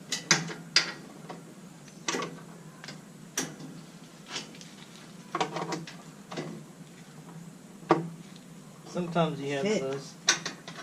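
A ratchet loosens screws while a 212 engine is installed on a Yerfdog go-kart, giving faint, scattered clicking and ratcheting bursts with a few mechanical knocks and brief quiet speech near the end.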